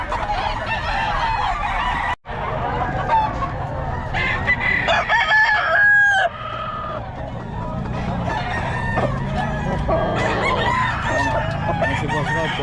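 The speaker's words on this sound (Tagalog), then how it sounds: "kompleto mga manok nito ni Boss Rod eh" Chickens and roosters crow and cluck repeatedly at close range, with goose-like honks mixed in, their calls overlapping in a busy, continuous barnyard din at a Bocaue poultry gathering.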